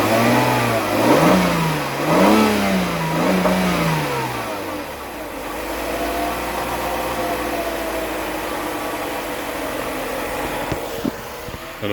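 A car engine revving right after its first start in two months, with replaced engine mounts and an original exhaust: several close, loud rising-and-falling revs early on, then settling into a steady rough idle for the remaining seconds.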